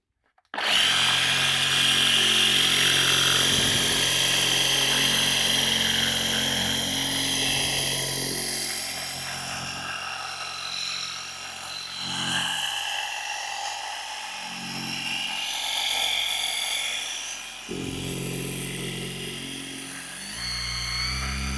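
A Rupes HLR75 polisher runs at low speed settings, giving a smooth continuous motor whir close up that dips and returns a few times.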